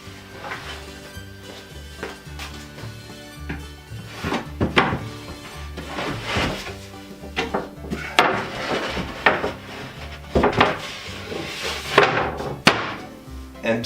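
A 3/4 inch plywood sheet slides into a notched frame on a sanding workbench, giving scattered wooden thunks, knocks and scraping bumps at irregular intervals, fairly close and moderately loud.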